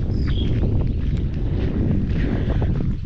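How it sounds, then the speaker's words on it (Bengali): Cold winter wind blows steadily across open fields beside a paved village road on a foggy morning, a loud constant rush buffeting close to the microphone with no pauses. "শীতের যে হিমেল হাওয়াটি কিন্তু সেটি খুবই লাগছে"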